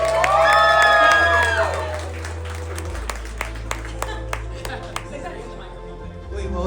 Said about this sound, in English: Okay, can I get a round of applause for that?